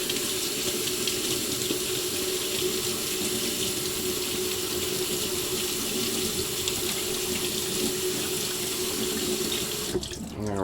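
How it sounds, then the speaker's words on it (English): Tap water runs steadily into a sieve of beans at a kitchen sink, a constant close splashing rush that stops abruptly near the end. "I'm gonna grab a sieve. And just put the beans in and just rinse them real quick."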